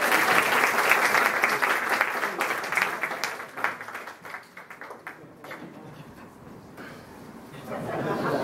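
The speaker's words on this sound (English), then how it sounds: "Let's give Roy a big round of applause." An audience at a magic show gives a volunteer a big round of applause, dense clapping that swells early, thins out midway with scattered claps and chatter, then rises again at the end.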